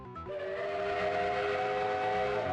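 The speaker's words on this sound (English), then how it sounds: "It's the most stereotypical locomotive steam engine sound." Astrotrain's steam locomotive whistle in the Transformers: Call of the Future video game blows one long, loud, sustained harmonic wail, heard alone with no talk.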